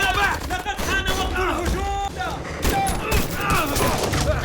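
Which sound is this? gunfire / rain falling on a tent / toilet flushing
gunfire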